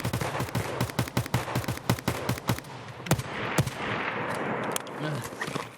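Rapid automatic gunfire in the shooter game Escape From Tarkov, a dense burst of sharp shots that slows into scattered single cracks, loud and close, with a voice talking during the exchange.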